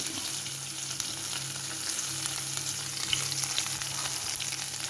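Ginger and garlic frying in hot oil for a bitter gourd and carrot pickle, a steady close sizzle with faint stirring underneath, continuous throughout.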